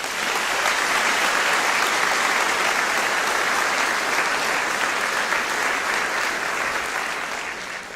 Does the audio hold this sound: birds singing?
no